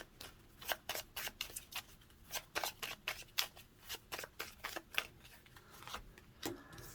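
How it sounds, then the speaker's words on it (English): Cards are shuffled in a rapid series of crisp riffling bursts, close and fairly quiet, repeating steadily for several seconds. "let me go ahead and shuffle"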